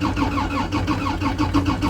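A diesel engine cranks on a cold start after its glow plugs have been heated, with the starter turning over in a steady, rapid rhythm of repeated loud compression pulses. It runs continuously throughout, close by, with no speech.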